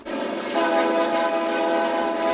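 A passenger train crossing Canada near the U.S. border sounds a sustained, loud horn chord over the steady rumble of the cars rolling past.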